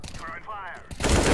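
Gunfire in Counter-Strike: after a brief stretch of game noise, a loud, dense burst of shots cuts in near the end and carries on to the finish.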